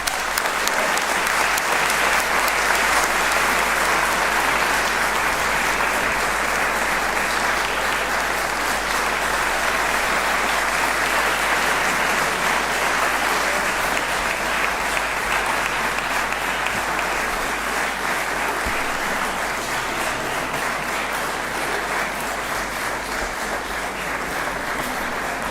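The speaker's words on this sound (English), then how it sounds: "Give an applause to Eric." An auditorium audience at a university event claps steadily and loudly for the full length, a dense, even patter of many hands without breaks.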